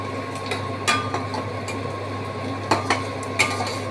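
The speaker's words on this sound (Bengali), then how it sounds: "একটু নাড়ছি" A spoon stirs cauliflower curry with fenugreek leaves in a metal cooking pan, giving a few scattered scraping clinks over a steady low background hum, with no talking.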